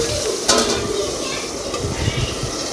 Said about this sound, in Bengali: আর যে কটা মাছ বাকি আছে সেগুলো একে একে ভেজে নেব।